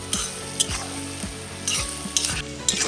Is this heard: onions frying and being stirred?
yes